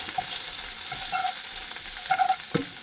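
A pan of food sizzling steadily up close, with a few light stirring scrapes and a clink near the end.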